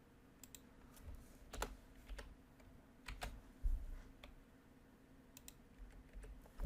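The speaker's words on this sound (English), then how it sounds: "what I just typed in or pasted in" Quiet typing on a computer keyboard, heard as scattered individual key taps and short clusters of clicks at an uneven rhythm over a low room hum.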